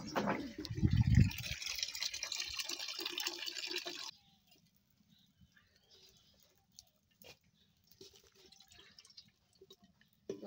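Water splashes and pours loudly over bottle gourd greens as they are washed for about four seconds, then stops abruptly, leaving near silence with faint scattered clicks.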